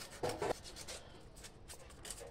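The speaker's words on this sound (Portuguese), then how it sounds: "E vai lixando para tirar tudo, dar" Sandpaper rubbed by hand over a surface while working on a Fiat Uno Economy Mille, heard as a few short, soft rasping strokes, the first pair a little louder, followed by quieter scraping in a calm room.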